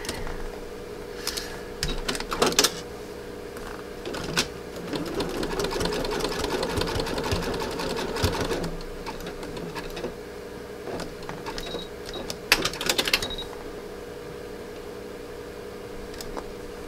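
A sewing machine stitches a fabric-covered rope coil in rapid mechanical bursts with short pauses between runs, close and steady throughout.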